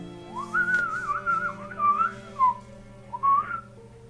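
A person whistles a short, wavering melody up close, with a few quick rising and falling phrases and short pauses between them.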